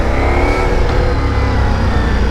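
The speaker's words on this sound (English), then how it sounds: "that exhaust note" Close, loud motorcycle exhaust growling as the engine accelerates, a rich throaty drone with no voices.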